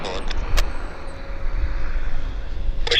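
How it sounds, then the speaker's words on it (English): A CRJ regional jet from Sacramento lands at Vancouver International Airport, heard as a steady distant roar of jet engines holding at one level, with a couple of brief higher clicks. "Another aircraft landing. It's a CRJ from Sacramento,"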